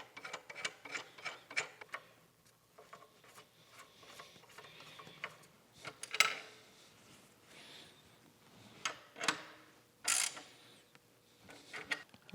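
Castle nuts are tightened on a steam stoker engine with a ratcheting wrench, producing scattered quiet clicks and metallic taps in irregular bursts, close up in a quiet room.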